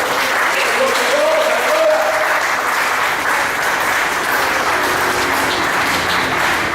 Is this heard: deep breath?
no